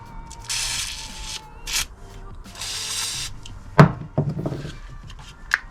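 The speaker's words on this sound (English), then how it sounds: "I'm going to get a good spray, keep working it, and see if I can make it a little bit looser." Lubricant sprayed onto a sticking trunk handle on a Mercedes SL R230, several short hissing bursts near the mic, followed by sharp clicks and clunks of the handle mechanism being worked.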